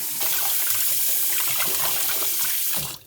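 Tap water runs steadily into a sink while eels are being rinsed, giving a continuous close splashing rush that lasts throughout and cuts off at the end.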